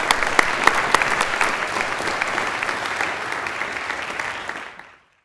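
An audience at a school Recognition Day applauds the school prefects, with dense, steady clapping at moderate loudness that fades out at the end.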